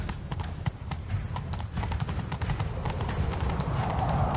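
Horse hooves pound quickly in a rhythmic clip-clop as a rider gallops off in the Witcher 3 game world, fairly close and growing louder, with a faint whinny and game voices around them.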